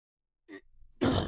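A short throaty grunt followed by a rougher, louder rasp of someone clearing their throat, close up and abrupt after near silence.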